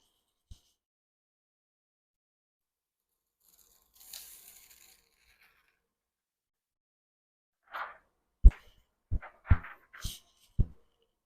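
Brief crackling tear as DTF transfer film is peeled off a printed colored shirt, followed by several sharp, separate taps and thumps close by in an otherwise quiet room.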